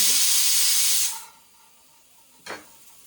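A pressure cooker on a gas stove lets out a loud, close steam hiss for about a second that cuts off abruptly, followed by quiet and then a short second puff of steam.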